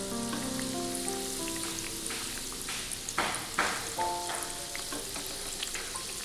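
A chicken cutlet fries in a pan over medium flame, giving a continuous soft crackling sizzle with a few louder spatters and bubbling bursts, moderately quiet and alone.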